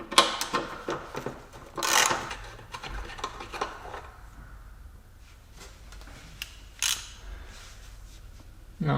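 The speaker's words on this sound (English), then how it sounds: "I can now unbolt the reservoir itself. Size is again 10 hex." A wrench undoes 10 mm bolts holding the washer reservoir in a Jaguar S-Type engine bay, giving close ratcheting clicks and metallic scrapes in short bursts with quiet gaps.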